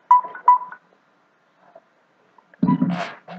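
A mobile phone with a faulty battery gives a few short electronic beeps at the start, followed by quiet, then a louder burst of bleeping and noise near the end.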